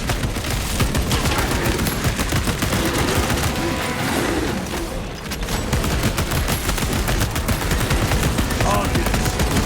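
Turret fire in the video game Warhammer 40,000: Space Marine 2, loud continuous rapid-fire bursts that rattle without letup, with brief booms and a short dip in the middle, mixed with battle noise.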